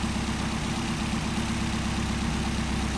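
A car engine fitted with a Solex carburetor idles steadily during idle-speed adjustment, a continuous low, even rumble with a regular pulsing throb and no talk.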